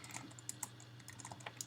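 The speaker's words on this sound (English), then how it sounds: "We're going to create a password for Little Timmy" A password being typed on a computer keyboard, with a quick burst of soft, close key clicks at an uneven rhythm and no talk.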